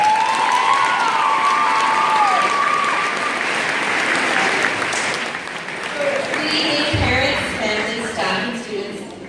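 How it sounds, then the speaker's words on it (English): A crowd at a graduation ceremony gives loud, sustained applause after a valedictorian speech, with some cheering mixed in, fading slightly toward the end. "Let's give her another round of applause."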